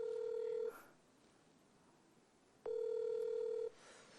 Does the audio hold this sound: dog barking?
no